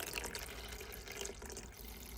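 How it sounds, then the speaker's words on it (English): Ordinary tap water runs into a watering can, a faint steady splashing rush with a low hollow fill tone throughout, no talking. "we're going to fill it full of just normal water"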